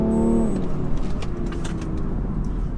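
A BMW 335d xDrive in Sport Plus pulls away hard, its diesel engine note rising and droning steadily close by, with a brief tonal whine at the start and no voices.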